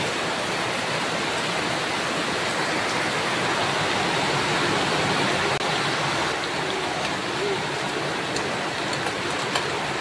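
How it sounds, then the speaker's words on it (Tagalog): Heavy rainy-season rain pours down in a flooded area, a loud, dense and unbroken roar of downpour that holds steady throughout with no voices. "Guys, so lakas ng ulan dito."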